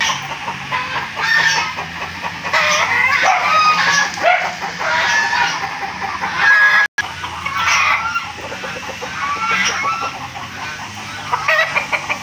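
Many chickens, including hens, cluck and squawk continuously nearby on a gamefowl farm, a busy, lively flock chattering without pause.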